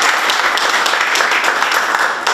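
Loud, dense applause fills the hall after a ceramic artist and university lecturer is introduced at a decorative arts biennial, steady clapping with no break.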